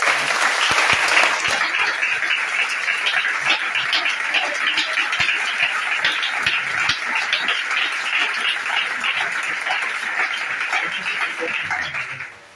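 A church congregation at a French-language teaching claps in sustained, dense applause that lasts throughout, loud and steady before tapering off at the very end.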